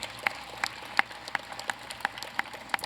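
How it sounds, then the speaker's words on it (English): Sparse, rhythmic clapping at a Fourth of July celebration, sharp, evenly spaced claps standing out above a quiet, faint crowd backdrop. "Yes, clap for them."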